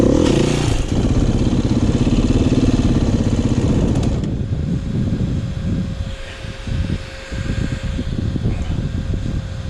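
A dirt bike engine roars loudly close by off-road, revving hard at first, then dropping after a few seconds to a rougher, sputtering idle.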